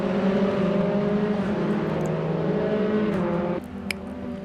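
A Mazda MX-5 race car at the Nürburgring in the RaceRoom racing game gives a sustained, loud, tonal engine drone that drops abruptly in level near the end, followed by a faint click.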